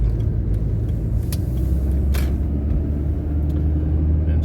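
A taxi cruising along a road, its steady engine and tire rumble droning continuously inside the cab with no break or change in pace.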